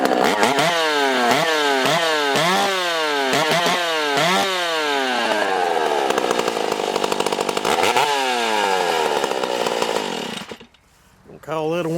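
A Stihl 028AV chainsaw with a rotted-out muffler runs loud and close, its engine revving up and down in repeated bursts before settling into a steady roar, then briefly cutting out near the end.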